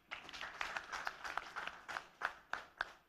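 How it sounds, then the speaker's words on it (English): An audience at a manifesto launch on petroleum and mining claps in a faint, scattered round of applause, individual claps audible as uneven sharp bursts. "another round of applause"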